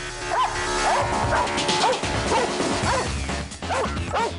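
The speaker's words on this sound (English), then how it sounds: "she runs around the pen barking, just going crazy" A dog barks repeatedly in quick yips, fairly close, over a steady background noise with some clattering.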